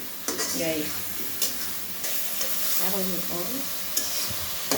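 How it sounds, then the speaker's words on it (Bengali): Pangas fish and bottle gourd fry in a pan for a fish and gourd pulao, giving a continuous loud sizzle with stirring scrapes and a few sharp clacks of the spatula throughout. "এই যে আমার হচ্ছে এরকম এই পাঙ্গাসের মাছ আর লাউ ভাজা হয়ে গেছে"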